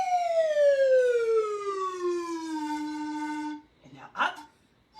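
A slide whistle plays one long, loud downward glide that settles on a low pitch, followed by a short burst of other sound before it falls quiet.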